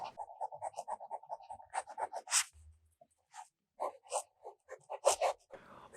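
A fountain pen with Callifolio Turquoise ink scratches across cheap paper in quick, rhythmic strokes and short bursts, close and dry, with brief pauses between words.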